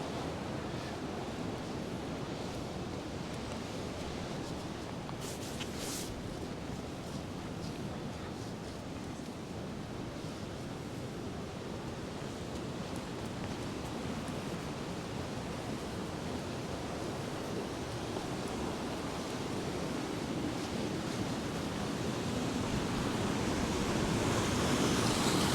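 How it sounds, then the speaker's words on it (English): A stream at Trebarwith Strand in Cornwall rushes down toward the sea beach, a steady, dense roar of flowing water that continues without a break and grows slightly louder near the end. "All that water coming down."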